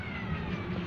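A cat meowing at a Schwaben Park zoo area, one drawn-out tonal call lasting under a second, fairly faint against a busy outdoor background.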